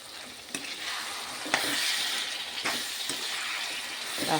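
Tomatoes hit hot oil in a pan for a mushroom tomato masala curry, giving a loud steady sizzle with a few scraping stirs breaking through.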